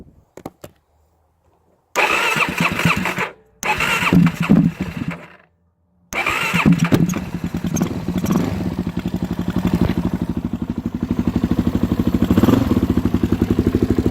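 A 2013 Suzuki DRZ400SM single-cylinder motorcycle engine cranks in two short bursts, then catches and settles into a steady, loud, close idle with a clattery mechanical tick.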